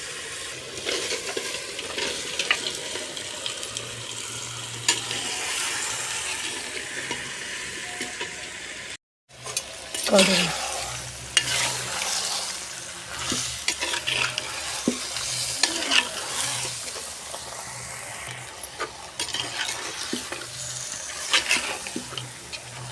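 Goat head meat is stirred and fried in hot oil in a pot, giving a continuous sizzle with scraping stir strokes. There is a brief silent gap near the middle and a short spoken word.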